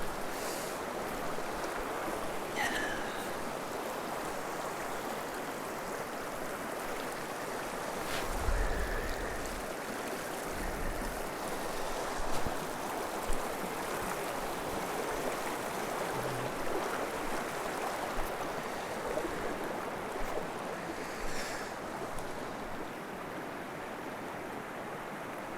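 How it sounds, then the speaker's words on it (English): Cold water of a small river in New Zealand rushes continuously around someone crossing it on foot on a chilly morning, a steady, close broadband flow with occasional faint splashes and knocks. "Right, going to cross a little river here."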